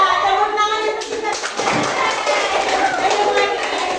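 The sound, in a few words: children clapping in classroom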